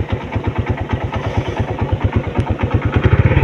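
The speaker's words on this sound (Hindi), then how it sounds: "बिलाल ने अब मोटरसाइकिल स्टार्ट करके जा" A motorcycle on a village road starts and pulls away, its single engine thumping in a rapid, steady pulse that builds slightly in loudness, close by and with no talking over it.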